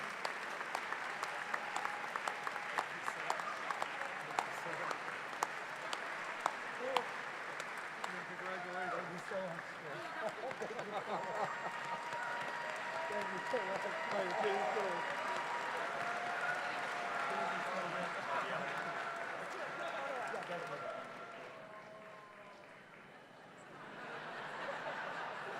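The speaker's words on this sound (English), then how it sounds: "Please give him a big round of applause." Audience at a jazz scholarship award ceremony applauding to welcome a student pianist, a long steady round of clapping with scattered loud claps and murmurs, fading out near the end before a voice begins.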